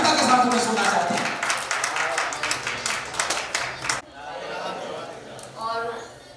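An audience claps at a poetry recital by visually impaired poets, with dense, loud applause for about four seconds that then fades into scattered claps as a voice begins speaking.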